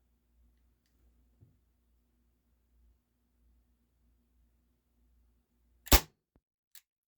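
An Umarex H&K VP9 air pistol fires one sharp, loud crack in a quiet room, followed by a faint click; the rest is near silence.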